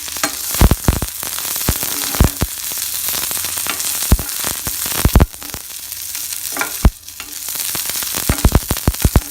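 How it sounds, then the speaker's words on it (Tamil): Small onions and ginger frying in a pan make a continuous close sizzle, broken by sharp clatters and scrapes from stirring at irregular intervals, with no voices present. "சின்ன வெங்காயம் போட்டு நல்லா கலர் சேஞ்ச் ஆகிற வரைக்கும் ஃப்ரை பண்ணணும்"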